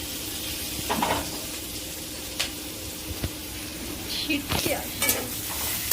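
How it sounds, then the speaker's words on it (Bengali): Chopped garlic, ginger and green chilli fry in a little oil in a wok for chilli chicken, with a constant sizzle broken by spatula scrapes and metallic clinks against the pan. "আদা রসুন আর কাঁচা লঙ্কা কুচিটা দিয়ে একটুখানি সামান্য ভাজা করবো"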